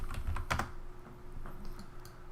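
Typing on a computer keyboard, a quick irregular run of keystrokes with a cluster of louder taps early on, close and moderately loud with no talk.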